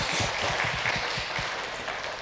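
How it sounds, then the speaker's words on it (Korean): A short burst of applause from a Sunday church congregation welcoming visitors, steady clapping with faint low rhythmic thumps beneath it. "우리 박수로 좀 환영하도록 하겠습니다"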